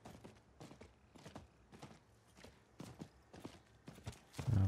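Steady clip-clop of horse hooves at a walking pace in the video game Diablo IV, close and fairly quiet, ending with a louder thud.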